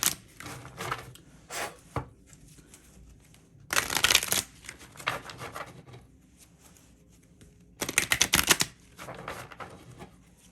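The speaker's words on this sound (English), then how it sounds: "Let's pull another card to go deeper." Tarot cards shuffled in two brisk riffling bursts between quieter stretches of soft handling and card drawing, close and fairly crisp with no talking.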